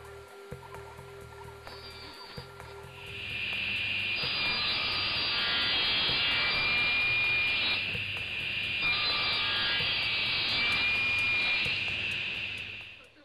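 A table saw with a sled and tenon jig runs with a steady high whine for most of the stretch, cutting wooden tenons for a casement window, its pitch wavering slightly, after a few seconds of quieter shop noise.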